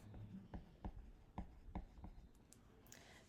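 A hand writing an algebra expression, with soft taps and scratches coming in short regular strokes, quiet and close, with no voices.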